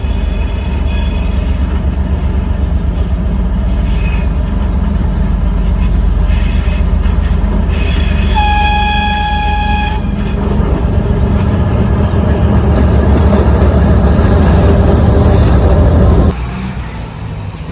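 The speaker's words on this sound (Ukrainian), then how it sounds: "переходимо міст, зустріли поїзд" A train passing over a bridge: a loud, close, continuous rumble and rattle of rail cars with brief whining metallic tones midway, ending abruptly as the roar drops away near the end.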